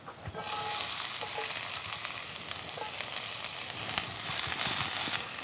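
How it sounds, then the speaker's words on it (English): Onion and ginger sautéing in a pan, a sizzle that bursts in loudly as the pieces drop into the hot oil and holds steady, with faint stirring clicks and no voices. "Let's drop in our onion."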